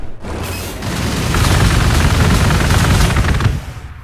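Dense, loud gunfire erupts as units open fire on an approaching Necron force in the Warhammer 40,000: Gladius strategy video game, a sustained rattling barrage with booming impacts that rises, holds and then cuts off.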